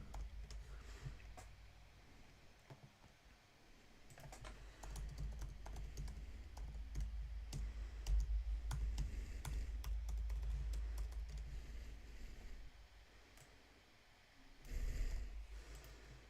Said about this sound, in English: I'm gonna be like typing in my password